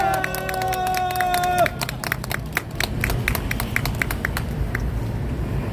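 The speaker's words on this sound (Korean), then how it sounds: "여러분 박수 부탁합니다" A crowd at an outdoor political rally breaks into sustained applause, dense rapid clapping following a sustained sung or amplified tone, and carrying on loud and steady throughout.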